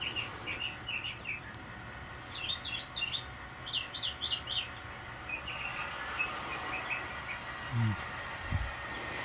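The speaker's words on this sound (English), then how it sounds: "It's a very happy sounding bird, so I'm just going to let him sing along." Small songbird singing a string of bright, repeated chirps and short trills near a model train layout, moderately close, over a steady low background hum with a couple of soft thumps near the end.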